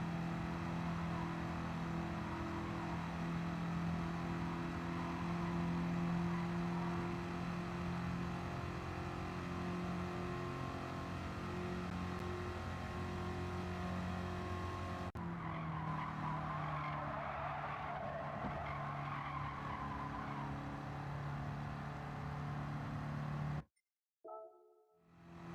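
A race car lapping a track in Gran Turismo 7 holds a steady engine drone with squealing, skidding tires. The tone shifts midway, and the sound cuts off abruptly near the end.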